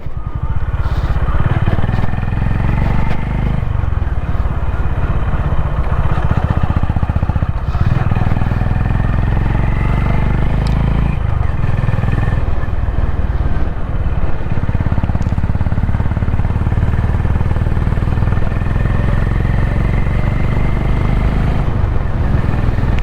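Honda CB350 motorcycle cruising in fourth gear down a straight stretch of road, its engine droning loud and steady throughout with constant wind rush and small swells in pitch.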